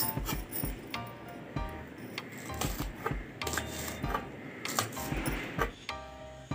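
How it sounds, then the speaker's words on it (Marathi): A knife chops washed green chillies into small pieces on a board, giving quick, close, irregular clicks and taps. "अशा स्वच्छ धुवून मिरच्या घेतल्या मी हिरव्या। आता ह्याचे आपण काप करून घेऊया, छोटे छोटे काप करायचे।"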